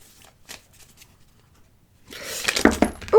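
Oracle cards being shuffled for a reading, a short burst of riffling and flapping card edges close to the microphone after near silence, ending with a brief voice.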